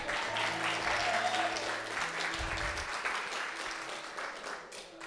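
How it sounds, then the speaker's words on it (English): Audience applause in a Global Empowerment Ministries gathering, a dense steady clatter of many hands filling the room for about five seconds, with faint voices murmuring beneath it. "Oh, come on, we can clap better than that."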